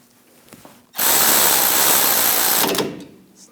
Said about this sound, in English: Snug these down.